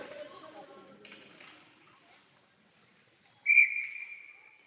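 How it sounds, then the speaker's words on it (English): A referee's whistle sounds once at an ice hockey game, a single loud sustained blast coming after a stretch of arena chatter and fading crowd noise. "And now it'll be whistled dead as there wasn't any puck movement."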